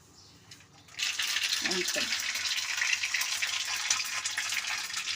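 Mustard seeds dropped into hot oil in a small pan for Telangana-style raw mango chutney, a sudden dense crackling sizzle that bursts in after a quiet second and carries on loud and steady, with a brief voice near the start.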